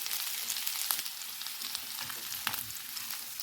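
Cauliflower florets frying in a hot pan for dry aloo gobi give a steady close sizzle and crackle, with occasional light pops and stirring clinks.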